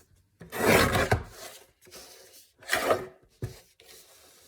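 Paper edges being trimmed for journal tags, a few close scraping cutting strokes in separate bursts with short pauses between them.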